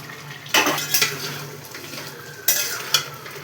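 A metal lid is lifted off a cooking pot of mixed vegetable and soybean curry, with a few sharp clanks and clatters over a low sizzle.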